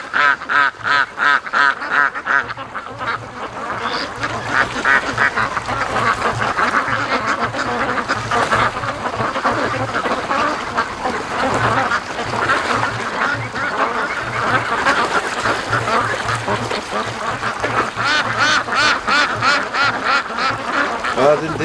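Muscovy ducks on a lake call in rapid, repeated quacks close by, a busy chorus of overlapping bursts that runs nearly continuously, with a voice speaking now and then beneath them.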